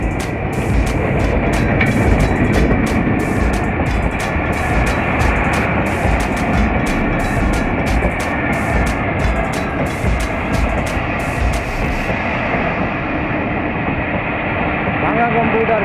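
The Bhanga commuter train on the Dhaka–Bhanga route passes on its inauguration day, a loud sustained rumble of wheels and engine throughout with rhythmic clacking in the first part, under scattered talk.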